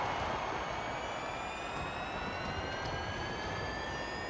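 An electric car's motor in Forza Horizon 5 lets out a steady, high, rising whine with several climbing tones over a broad wash of road and wind noise, continuous throughout, with no talking.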